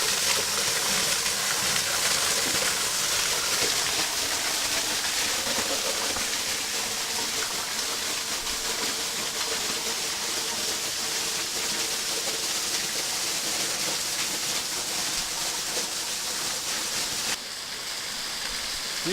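The Mae Sapok waterfall, heard from beneath it, roars as a dense, steady wash of falling water that stays loud and unbroken throughout, with a slight drop in level near the end.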